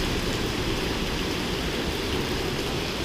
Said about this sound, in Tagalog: sobrang lakas ng ulan talaga.